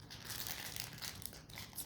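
Foil wrapper of a Lorcana trading card booster pack being crinkled and torn at close range, a steady dense crackle with no talking.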